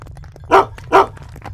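A dog in an audio drama gives two sharp, loud barks in quick succession, close and clear, over a faint low background hum.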